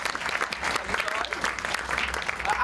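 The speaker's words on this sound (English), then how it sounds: "Everyone give Angela a huge round of applause as she joins me on stage." A magic show audience claps as a volunteer joins the performer on stage, steady crowd applause that fills the whole moment, with some voices mixed in.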